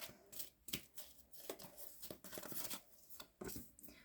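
Tarot cards shuffled and drawn one after another, giving a series of crisp card slaps and papery flicks in an uneven rhythm. They sound close and fairly quiet, with no talking.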